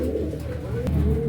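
A female pigeon, offered for sale by a pigeon keeper, gives a low, soft, rolling coo that sounds close by, with no talk over it.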